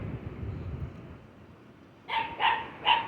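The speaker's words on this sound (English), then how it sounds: "A little white puppy, he's letting somebody know he needs water." A small white puppy barks three times in quick succession, sharp and fairly close, after a stretch of quiet street ambience in a Philippine neighborhood.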